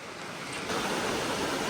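Water rushes over the Nardis waterfalls in the Adamello mountains, a loud, dense, continuous roar that swells slightly and stays steady throughout.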